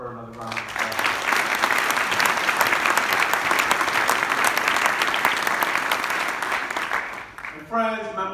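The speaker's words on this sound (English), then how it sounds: "Let's give her another round of applause." An audience at Bridgeport's 2019 State of the City address bursts into loud, sustained applause for about seven seconds, with a speaker's voice heard briefly before and after the clapping.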